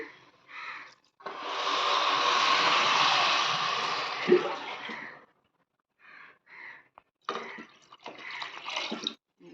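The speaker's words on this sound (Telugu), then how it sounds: "2 లోటాలతో వాటర్ అనేది ఇందులో వేసుకున్నాను" Water pours steadily into a rice pot for several seconds, then a few shorter splashing pours follow after brief pauses, close and fairly loud; about half a litre of water in total.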